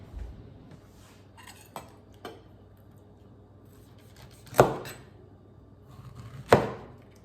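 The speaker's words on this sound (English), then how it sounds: "Grab a knife and cut that part out now." A knife cuts a spoiling section out of a piece of produce in a home kitchen: a few faint taps, then two sharp, close knife strikes on a board spaced about two seconds apart, in an otherwise quiet room.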